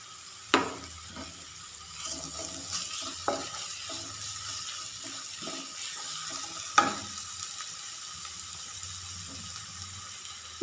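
Chopped ginger goes into a pan of sautéed shallots, bringing a steady soft sizzle under a scatter of stirring scrapes and a couple of sharper clinks, close and fairly quiet, with no talk.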